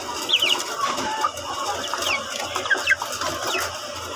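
Chickens in a game-fowl yard cluck in short scattered bursts among faint high bird chirps, set against a steady outdoor background hum without speech.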